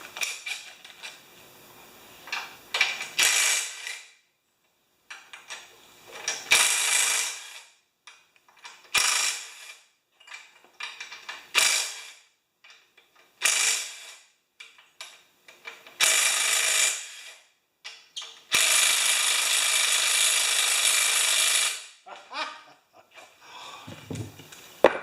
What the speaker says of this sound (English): And now I'm going to take that head off of there.